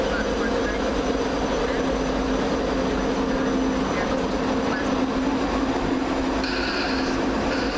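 ScotRail class 334 electric train pulling out of Springburn station in Glasgow, a continuous low rumble with a steady hum and a brief higher whine near the end.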